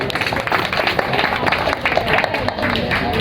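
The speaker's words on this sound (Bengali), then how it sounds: "হাততালি দেই।" Audience applause at an engineering student talk show, dense steady clapping from a crowd filling the whole moment without pause.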